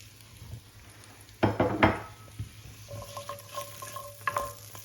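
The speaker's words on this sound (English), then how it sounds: "to the onion, garlic, ginger and turmeric, I'm now adding carrots." Carrots frying in a pan with onion, garlic, ginger and turmeric for a potato and cabbage curry, with a sizzle rising suddenly near the start, then soft stirring scrapes and light clinks of pots and utensils.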